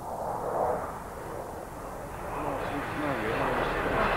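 The Avro Vulcan XH558, a huge delta-wing bomber, flies a tight display within half of an airfield. Its engines give a faint, distant, rolling jet rumble, with a commentator's voice running over it.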